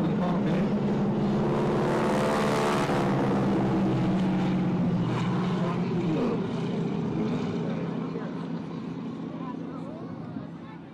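A vintage airshow biplane roars overhead during an aerobatic wing-walking display, its steady propeller drone swelling loud then slowly fading, with a public-address announcer talking over it.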